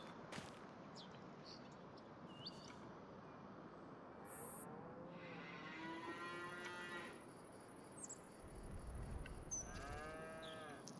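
Cattle moo repeatedly around a GEA dairy feeder in Farming Simulator 25, several drawn-out calls at moderate distance over a low ambient farm bed, with faint mechanical clanks between them.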